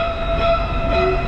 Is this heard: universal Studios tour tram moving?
yes